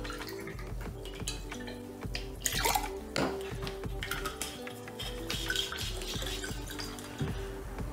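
About 50 ml of vodka is poured into a highball glass for a vodka-and-cranberry Frog in a Blender cocktail, with a close, trickling pour among small glassy clinks and clatter.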